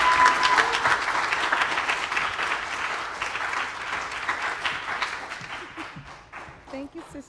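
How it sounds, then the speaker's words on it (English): An audience applauds Kim as she comes up to the stage, steady crowd clapping that holds for several seconds and gradually thins out. "please give Kim a round of applause"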